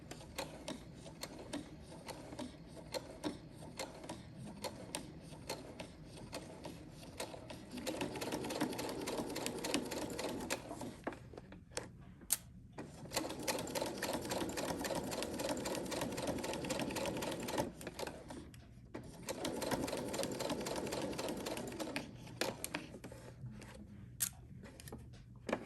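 A sewing machine stitches a ruffle bag around a curve, running in three long whirring bursts separated by brief pauses, close and alone without talk.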